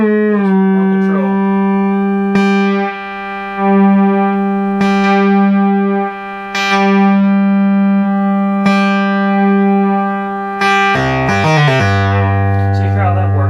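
A Multimoog synthesizer sounds a sustained, buzzy held tone as its wave shape changes, punctuated by sharp clicks and brief bright attacks, then shifts to a lower, thicker note near the end.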